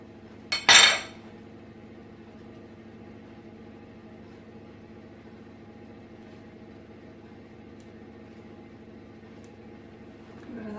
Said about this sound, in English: I'll just scrape these off.